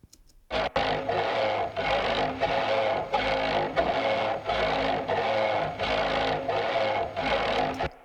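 A bowed string drone with a raspy, saw-like grain, pulsing in long repeated strokes at a steady, moderately slow rhythm, loud and close.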